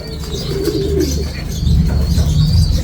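Pigeons coo in low, throaty, rolling bursts close by, with a faint chirp or two in the background and no talking.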